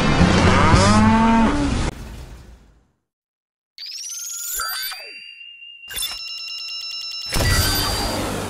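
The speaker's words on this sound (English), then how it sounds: "A cow." Cartoon cow mooing in a Ben 10 animated short, a loud, clear bovine moo followed by comic sound effects such as a whoosh, a ding and a springy boing, with no speech.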